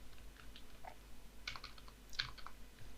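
Typing on a computer keyboard, a few quiet, scattered key clicks over a low steady hum, with no talk.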